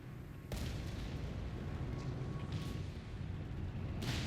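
Tank cannon fire from a Matilda in Company of Heroes 3 on Longstop Hill, with sharp booming blasts near the start and end over a continuous rumbling wartime battle din.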